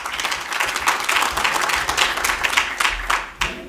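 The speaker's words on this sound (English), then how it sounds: "A big round of applause for the lightning round winners." A conference audience at a technology event applauds the winners of a lightning round, giving loud, dense clapping close by that holds steady for a few seconds.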